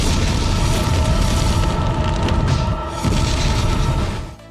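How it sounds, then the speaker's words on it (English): Deep, sustained rumbling roar of a simulated nuclear blast from Terminator 2, created with a flamethrower over a miniature city replica; loud and continuous, with a brief dip near the end before fading out. "simulated a nuclear explosion using a flamethrower"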